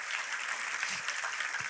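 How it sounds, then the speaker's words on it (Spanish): A church congregation applauds during a sermon, a brief stretch of steady, dense clapping with no other sounds standing out. "Dale un aplauso a ese Dios"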